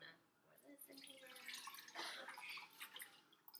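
Liquid poured into a blender for an antioxidant smoothie, a faint, soft splashing trickle that rises and continues steadily throughout.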